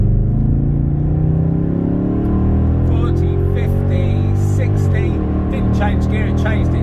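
A BMW V8 (M60/M62 family) with a 3.15:1 differential accelerates hard in second gear from about 30 to 60 mph. Its loud, steady engine note climbs continuously in pitch for several seconds.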